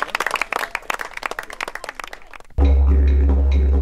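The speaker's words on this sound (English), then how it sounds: "Huge applause for the tandem team." Applause and clapping for a winning tandem team at the Crocodile Trophy mountain bike race rattle for a couple of seconds, then give way abruptly to a loud, steady low hum.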